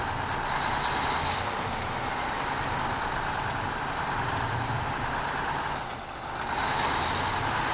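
A heavy off-road truck idling in SnowRunner, a steady low engine rumble with a broad hum, constant and fairly quiet, dipping briefly near the end with no talk.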